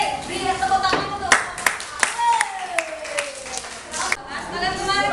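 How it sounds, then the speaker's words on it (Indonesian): Students in a classroom give scattered applause, uneven hand claps with a few sharp loud ones, mixed with chatter and voices over a busy room background. "beri tepuk tangan untuk"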